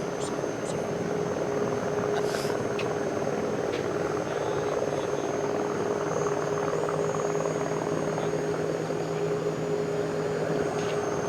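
An Airbus A350 XWB flying a pattern over Toulouse on its first flight, a steady distant jet drone with a sustained engine tone and faint rumble running throughout, and a voice talking over it.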